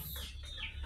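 Chickens in a semi free-range backyard coop cluck briefly and close by, one short burst over a low steady background hum.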